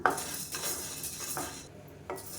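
Black urad dal and rice dry roasting in a pan with a little dry ginger and a cardamom pod, giving a few scraping clinks and rustling stirs of a utensil against the metal at a steady close level.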